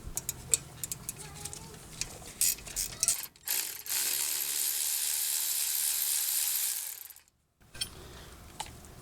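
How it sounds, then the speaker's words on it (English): Ratchet clicks loosening the front brake caliper slide pin bolts on a 2014 Mini Cooper, a rapid run of ticking bursts followed by a long steady whirring spin of the tool, then brief clicks after a pause. "hold that slide pin steady while we loosen and remove these slide pin bolts"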